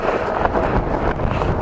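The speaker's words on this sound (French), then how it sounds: "Ah, ce vent, waouh." Strong wind buffets the microphone of a cyclist riding outdoors, a dense, rumbling gusty roar that stays loud and constant.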